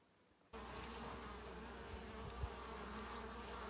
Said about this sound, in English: just look at the bees coming in